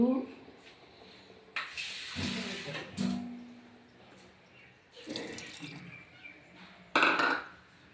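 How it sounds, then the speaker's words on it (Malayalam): Water is poured into a cooking pot of potato stew in a few short splashing bursts separated by quieter gaps. A voice is faintly audible in the background. "വേകാനുള്ള വെള്ളം ഒഴിച്ചു"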